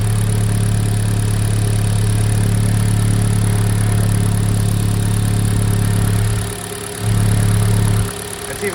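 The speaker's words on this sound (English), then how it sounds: "this engine supposed to sound like a subwoofer?" A 2017 Hyundai Elantra 2.0 direct-injection engine, which is overheating, idles steadily with a deep, booming low rumble and slight shake, briefly dropping off near the end before catching again.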